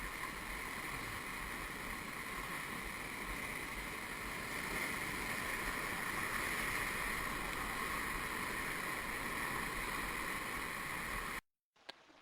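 Rushing river water while rafting a rapid in the Grand Canyon, a steady broadband churning roar that holds for about eleven seconds before cutting off abruptly, no speech.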